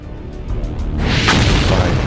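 Missiles fired from a Grumman F-14 Tomcat strike their targets, producing a deep, rumbling blast that swells midway and rolls on loudly, with no voices.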